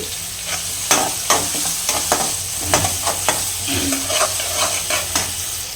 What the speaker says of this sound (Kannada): ಸೊ ಇದು ಎಲ್ಲ ಚೆನ್ನಾಗಿ ಫ್ರೈ ಆಗಿದೆ ಇವಾಗ